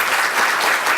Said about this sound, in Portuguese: ficar de pé para receber os aplausos dos colegas